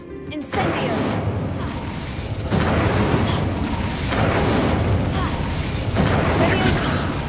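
Incendio fire spell cast in Hogwarts Legacy, heard as repeated loud, booming bursts of flame, one near the start and more every few seconds, over a dense, constant game soundscape with voices speaking.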